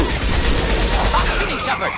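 Heavy sustained gunfire in a Mass Effect 2 battle, a loud dense rattle of shots with explosive thumps that fades slightly near the end, mixed with voices in the fight.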